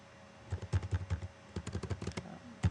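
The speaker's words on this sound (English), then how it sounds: "Here you can type whatever you want." Someone types on a computer keyboard in short bursts of quick, close key clicks with brief pauses between runs, with no talking.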